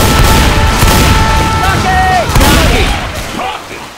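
Loud booming explosion from a rocket and bursts of gunfire in the zombie shooter game Left 4 Dead 2, with chaotic crackling and electronic tones under it.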